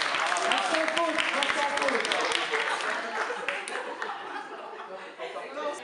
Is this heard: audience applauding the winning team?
yes